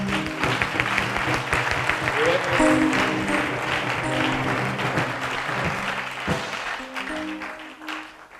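A church congregation applauds during a service. Steady, dense clapping fills the space throughout, with some tonal voices or music underneath, and it thins slightly near the end.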